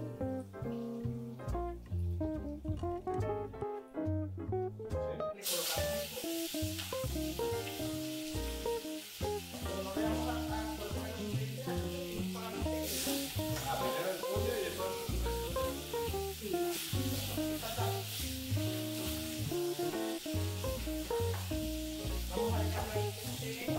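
Chicken frying in caramelized sugar in a pan, a steady loud sizzle that jumps sharply as the pieces go in, with stirring and a voice talking throughout.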